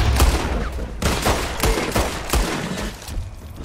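Gunfire in Red Dead Redemption 2 during a shootout in the town of Armadillo: several loud, sharp shots crack in quick irregular bursts, close and echoing, with no voices over them.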